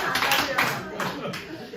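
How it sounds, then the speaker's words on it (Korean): Church congregation clapping together, a loud, dense burst of many hands with a few stronger accents, mixed with voices speaking over it. "할렐루야 박수 한번 치겠습니다"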